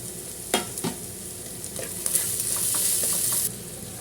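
Onions and green chillies sizzle in hot coconut oil, with a steady bright hiss and a few scraping stirs near the start, close and fairly loud with no talking.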